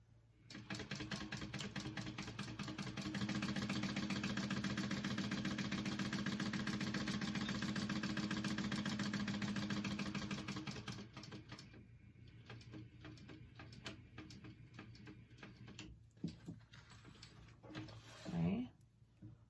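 A sewing machine runs a fast, steady stitching buzz for about ten seconds while a zipper is sewn onto a shoulder bag, then gives a few short bursts with pauses between them as someone talks.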